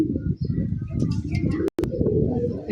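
A pair of Giribaz pigeons at a pigeon farm coo in low, throaty bursts close by, with a few faint chirps and a brief drop-out near the end.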